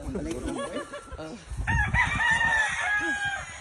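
A rooster crows loudly with a long drawn-out call, following some clucking and chatter from nearby fowl, at a gamefowl farm in Tabogon, Cebu.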